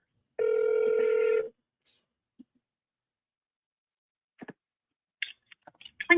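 A single burst of telephone ring tone on an outgoing call to Lincoln University's admissions office sounds for about a second, then gives way to near silence, faint clicks and brief low voices.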